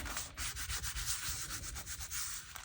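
Soft, continuous scratchy rubbing as paper is pressed down by hand onto a handmade junk journal cover, close and quiet with an uneven back-and-forth rhythm and no talking.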